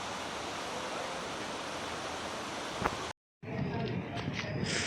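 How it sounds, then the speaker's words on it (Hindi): A roadside waterfall near Rishikesh roars as a dense, steady rush of water that cuts out briefly, then returns slightly quieter. "ये देखिए वाटरफॉल।"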